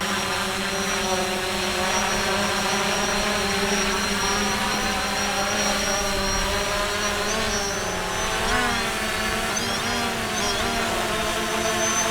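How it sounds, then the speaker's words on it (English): A Fimi X8 SE drone flying back on its return to home gives off a loud, steady high-pitched propeller whine that shifts slightly in pitch as it approaches. "Here comes the drone."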